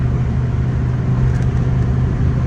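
A tuned Citroen C-Elysee 1.6 HDi diesel with a cutout, making 140 hp and 320 Nm, drones at a steady, loud pitch as it pulls uphill, with road noise underneath.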